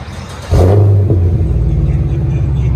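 A 2017 Chevy Camaro SS with a 6.2L V8 and Flowmaster FlowFX dual exhaust fires up abruptly into a loud, close, deep rumble that settles into a steady, throaty idle.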